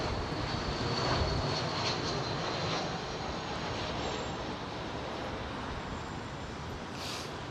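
An Emirates A380 airliner on approach to London Heathrow makes a steady, broad jet roar. The sound is fairly loud and continuous and holds evenly for the whole stretch, with no talking over it.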